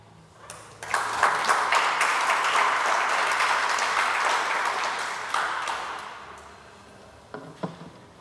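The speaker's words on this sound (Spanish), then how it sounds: "Recibamos con un caluroso aplauso al doctor Raúl Acosta Salazar." An audience at an academic session with engineers on the El Niño phenomenon breaks into warm applause that swells quickly, holds for about five seconds, then tapers into a few scattered final claps.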